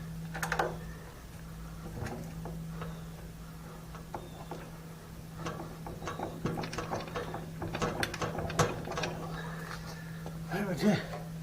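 Ratchet wrench clicking in bursts while bolts are started on a Wheel Horse 1054 garden tractor transmission install, close and moderately loud with a steady hum underneath.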